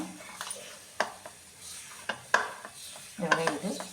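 Sweet potato dough being kneaded by oiled hands, giving soft squelching presses with a few sharper taps against the bowl, close and fairly quiet, with no talk.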